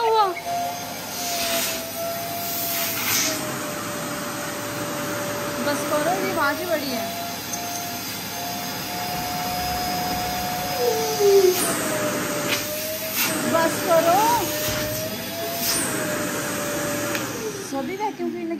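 A Karcher wet and dry vacuum cleaner runs continuously with a loud, steady whine and motor drone that shifts pitch slightly throughout, while a person talks briefly over it.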